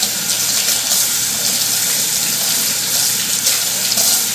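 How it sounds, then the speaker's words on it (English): Tap water runs steadily into a sink while hands are washed in a home kitchen, a continuous close splashing rush with no talking. "So I'm going to wash my hands."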